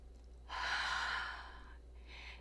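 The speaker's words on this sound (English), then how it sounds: "Let's begin today with one cleansing breath." One deep, slow breath drawn in and let out near the microphone, a soft airy rush lasting about a second, followed by a fainter exhale, with no talking.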